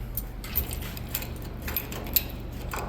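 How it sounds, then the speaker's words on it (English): Keys jangle and click close up as they are inserted into the ignition of a 1963 Ford F100 pickup, small irregular metallic taps over a low steady hum. "Let's put the keys in."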